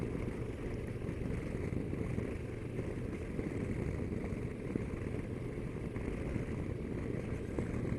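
A CFMOTO 650MT motorcycle cruising through a village at about 30 mph in fourth gear, its engine a steady low drone under constant wind rumble.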